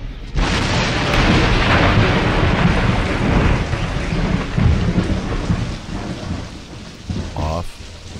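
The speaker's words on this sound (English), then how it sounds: "It speaks in the whistling wind that bends trees under a stormy sky." A thunderstorm with heavy rain: loud rolling thunder over dense rainfall, building quickly, then easing toward the end with a few lighter rumbles.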